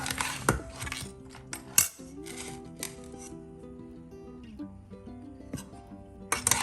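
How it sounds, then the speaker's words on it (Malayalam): Metal clinks and scrapes of a cooking pot lid being lifted off a pot of crab roast masala, a few sharp clanks near the start, middle and end over a steady background tone of music. "പാത്രത്തിൻ്റെ അടപ്പ് തുറന്ന് നോക്കാം"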